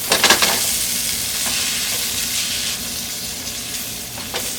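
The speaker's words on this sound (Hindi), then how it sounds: "अब इसके अंदर ऐड करेंगे बॉइल्ड चिकन, ऊपर नीचे कर दें, इस तरह से मिक्स करेंगे।" Boiled chicken stirred and sautéed in a hot pan, a steady close sizzle with spatula scrapes and stirring clatter near the start and end.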